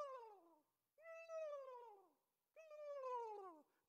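A flying crane calls three times, each call a loud, descending, nasal honk roughly a second long, with clear pauses between them and no other sound.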